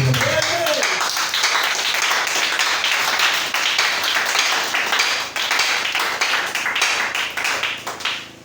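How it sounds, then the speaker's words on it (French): A church congregation claps and applauds loudly and steadily throughout, a dense wash of many hands that runs on without a break, with a brief voice at the start before tailing off at the end. "Acclamons très fort pour notre Seigneur"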